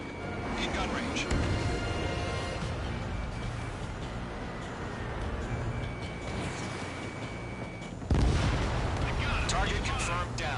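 Aircraft cannon fire in the combat flight game Ace Combat 7, a dense, continuous rumbling roar of gunfire and jet noise that swells sharply near the end, with radio voices talking over it.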